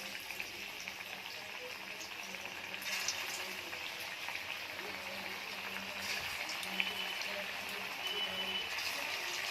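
Drumstick flower fritters frying in oil in a wok, a soft steady crackling sizzle with faint bubbling, quiet and continuous.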